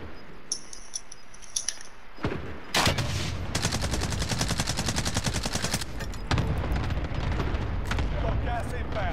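Rockets and gunfire crash out in a Warzone match, a sharp blast near 2.8 seconds followed by dense, sustained explosive firing and booms that stay loud through the rest, with voices talking over it.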